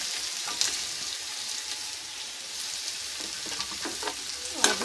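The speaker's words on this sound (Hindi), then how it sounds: "सबसे पहले हम इसमें आलू जो हमने काटे हैं वो ऐड कर देंगे।" Chopped potatoes frying in oil in a pan with turmeric, a steady close sizzle and crackle with faint stirring clatter and a couple of sharper scrapes near the start and end.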